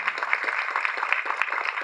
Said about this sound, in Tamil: தயவு செஞ்சு ஒரு பெரிய கைதட்டு கொடுத்துருங்க